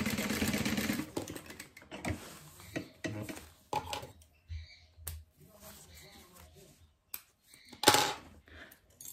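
A sewing machine runs a half-inch seam on a small fabric organizer, with a dense buzzing burst of stitching for about two seconds, then sparse clicks and handling noises.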